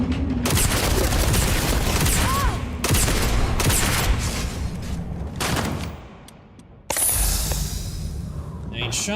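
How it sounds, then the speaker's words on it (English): Gunfire in the sci-fi game Starfield: Shattered Space, loud bursts of shots in quick clusters with booming impacts, pausing briefly before a sharp final blast, with a voice talking at points. "Nine shots."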